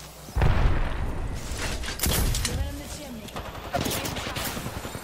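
Bursts of automatic gunfire in the shooter Apex Legends rattle off in three volleys, each with a sharp onset, under a low muffled rumble. People talk at the same time.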